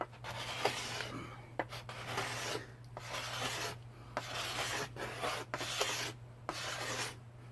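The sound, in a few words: scraping a wooden bow stave by hand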